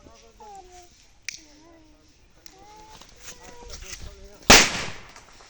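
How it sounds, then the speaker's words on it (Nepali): Diwali firecrackers, a nagin bomb and a khorsani bomb, are set off outdoors. Faint voices and ambient noise come first, with a couple of small pops, then a single loud, sharp blast near the end. "पड्काउने हो नागिन बम और खोर्सानी बम।"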